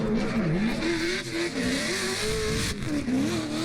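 A drift car slides through a handbraked, high-angle entry on a track near a wall, its engine droning steadily at high revs with wavering pitch as the throttle swells and eases; a continuous loud roar with tire noise underneath.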